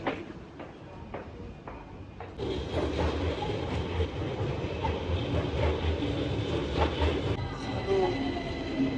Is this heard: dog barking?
no